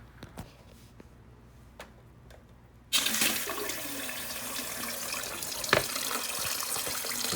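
A bidet's nozzle-cleaning spray switches on with a sudden steady hiss of running water that continues evenly, preceded by a few faint clicks, close and moderately loud.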